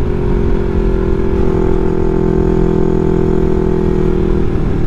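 Yamaha R3 motorcycle engine running steadily while riding, a loud, continuous drone with a strong low hum and mid-range buzz, holding an even pitch throughout with no voices.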